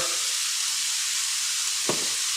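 Shaved steak sizzles steadily in a hot pan with vegetables, a continuous bright frying hiss with one brief clatter near the end.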